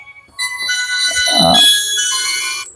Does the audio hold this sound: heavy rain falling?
no